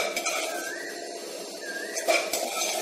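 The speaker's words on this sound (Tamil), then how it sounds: "ரெடியான கோகனட்டை பாத்திரத்தில் மாற்றி வச்சுக்கோங்க" Roasted coconut being scraped and tipped into a metal cooking vessel in a home kitchen, light clinks and a few sharper metallic knocks over a steady background hum.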